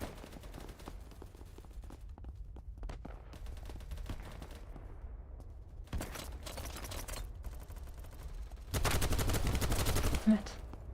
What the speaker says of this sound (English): I would love to keep firing on them with my MG bipod